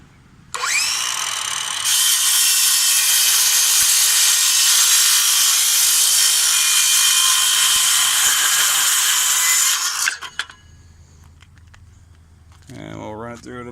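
Craftsman V20 cordless circular saw cutting, a loud high whine lasting about ten seconds and then spinning down, followed by a person talking.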